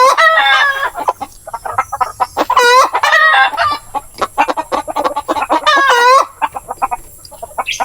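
A hen clucks repeatedly in a warm nest of eggs, wanting to brood, with other chickens nearby and a rooster crowing twice, loud and close, and no talk.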